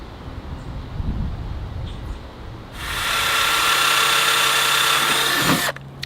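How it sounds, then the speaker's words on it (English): A power drill drives a screw into a wooden bottom slat of a large bonsai box made from old skid wood, a steady whirring burst of about three seconds after some quiet handling noise. "I will put another screw in here just to hold this bottom slat together here."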